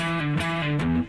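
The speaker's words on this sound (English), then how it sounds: "distorted tones because we're playing prog music" Distorted electric guitar playing prog rock, a thick sustained tone holding steady chords that shift twice, loud and close with no voice over it.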